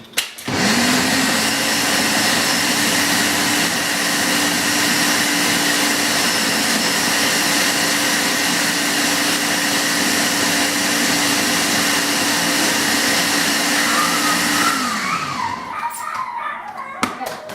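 A kitchen blender whirs steadily while mixing a green smoothie, a loud continuous motor drone that holds constant for about fifteen seconds before winding down, followed by brief clatter.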